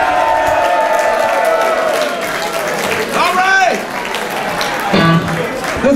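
A concert crowd at the Scheldeblues 2018 blues festival applauds and cheers for a performer, with steady dense clapping and occasional whoops throughout, while a voice speaks over the noise.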